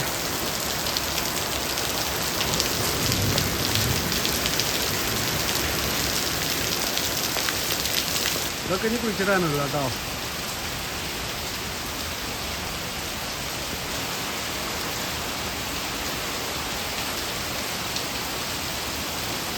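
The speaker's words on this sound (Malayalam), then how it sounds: "നല്ല മഴ" Steady, dense rain hisses throughout, close and even, during a strong windstorm, with a person speaking briefly partway through.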